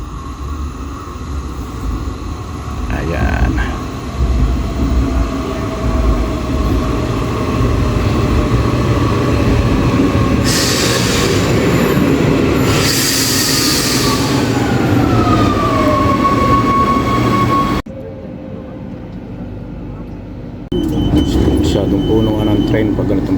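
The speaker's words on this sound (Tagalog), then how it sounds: "parating na yung train oh" A commuter train pulls into a station, a loud rumbling approach with rising screeches and a long descending brake whine, then a sudden drop and renewed noise near the end, with people talking throughout.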